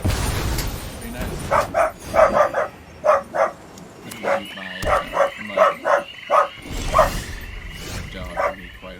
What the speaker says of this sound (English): Dog can be quite annoying.